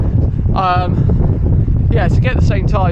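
Steady low wind rumble buffeting the microphone throughout, with someone talking over it, at a 10K road race.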